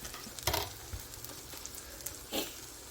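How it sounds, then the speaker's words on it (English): A four-cheese grilled cheese sandwich sears in a hot pan, giving a steady, fairly quiet sizzle with a couple of brief louder clatters. "we're gonna go ahead and sear this side"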